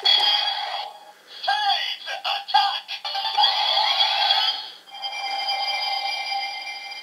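A DX Kyutama Cockpit toy's electronic sound effect plays: bright warbling, chirping tones that stutter and sweep, pause briefly, then a sustained synthetic tone follows.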